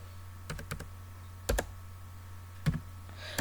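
Keys pressed on a computer keyboard during a Windows repair screen: a handful of sharp separate clicks in small clusters, close and fairly quiet over a constant low electrical hum, with no talking.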